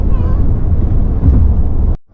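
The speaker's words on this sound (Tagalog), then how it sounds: "Ang lakas ng hangin." Strong wind buffets the microphone on Melbourne's Westgate Bridge, a loud, steady low rumble for about two seconds before it cuts off abruptly.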